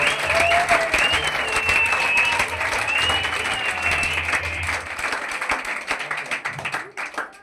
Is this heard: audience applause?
yes